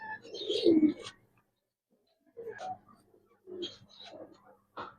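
Coloring pigeons kept for sale coo in several soft separate bursts with quiet pauses between them, fairly faint and close, with no talk over them.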